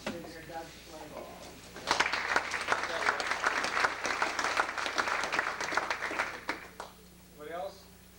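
Audience applause at an Amway business meeting: sustained dense clapping that rises suddenly and runs about five seconds before tapering, with voices talking before and after.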